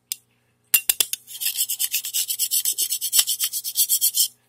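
A flat scraper rasps wax build-up off a VCT floor: a few sharp separate strokes, then a steady run of quick, even scraping strokes close by, loud and with no voice.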